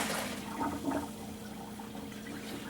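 Rinse water from a Ninja Pro N600 blender poured into a kitchen sink, a brief splashing gush that settles into steady draining water, close and alone without talk.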